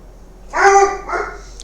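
A dog indoors lets out a short burst of two yappy barks, close and loud against a quiet background.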